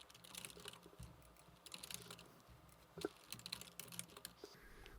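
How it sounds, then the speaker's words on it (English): Close, quiet typing on a computer keyboard, a steady patter of key clicks with uneven rhythm and a few sharper taps, with no voices. "I can also type into my boxes"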